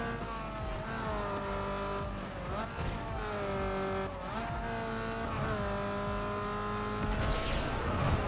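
Race car engine from the Need for Speed Underground 2 video game, with nitrous boost, revving loud and steady at close range with shifting pitch, tire squeal and a rising whoosh near the end, alongside game music.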